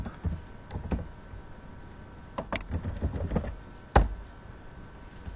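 Someone types a word on a computer keyboard, producing irregular clusters of soft key clicks with a sharper tap near the end, alone in a quiet room.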